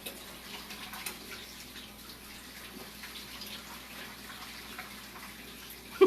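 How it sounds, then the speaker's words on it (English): Hot water runs from a kitchen tap over food, a soft steady hiss of flowing water at low level with faint splashing throughout. "I'm going to put it under our hot water."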